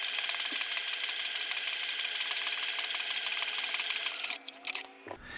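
A sewing machine stitches a velcro fastener in a fast, steady whir of needle strokes that runs loud and continuous, then stops with a few clicks and handling noises near the end.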